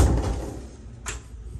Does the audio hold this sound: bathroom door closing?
yes